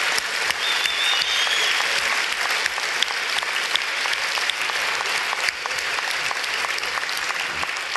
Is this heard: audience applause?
yes